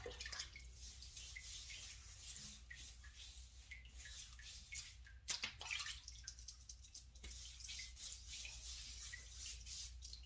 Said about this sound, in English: I'm gonna go in and wet my head and lather up